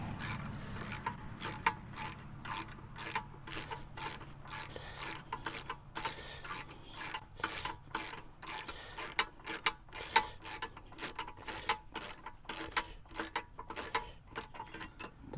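A wrench ratchets steadily while a bolt is tightened on an Anderson Ultimate Gen 3, with a fast, even run of close clicks repeating throughout and no talk.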